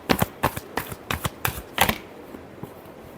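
Tarot cards being shuffled during a reading, a run of crisp riffling bursts in quick rhythm, close and fairly loud, then fading to quiet near the end.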